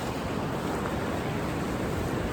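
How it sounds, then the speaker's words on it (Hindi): Seawater surges and rushes through rock craters along the Goa shore, a dense unbroken wash of water noise, close and steady, no voices. "पानी पूरा सब में से फ्लो क्या रहा है अंदर"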